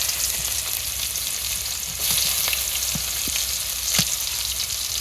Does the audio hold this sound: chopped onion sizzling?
yes